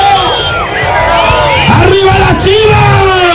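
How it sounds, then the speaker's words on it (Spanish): A crowd at a professional jaripeo rodeo in Alotepec yells, whoops and cheers loudly in a short burst, shouting voices overlapping close by. "venga el aplauso fuerte"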